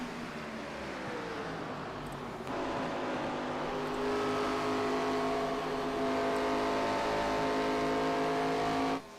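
Race cars on a California track in a Sundance Pro Series event, a pack of engines droning and rising in pitch as they pass, loud and continuous with no talk.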